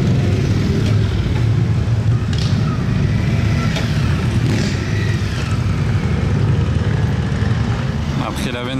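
A Lamborghini supercar engine roars in a steady, loud drone at a street car gathering, with outdoor background noise and people talking nearby.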